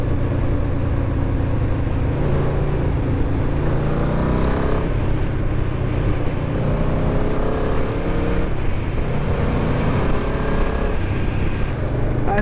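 A Yamaha VMAX V4 muscle motorcycle engine running while ridden, a loud, close, continuous rumbling drone that climbs and falls in pitch as the revs change, with no talking.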